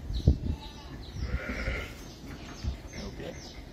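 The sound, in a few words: Texel ewe sheep bleating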